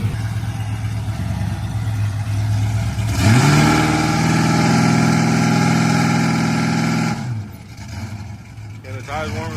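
An LS-swapped Ford F150 pickup on the street idles loudly, then snaps into a hard rev held flat against a two-step launch limiter for about four seconds before dropping back to a rough idle, with voices faintly in the background.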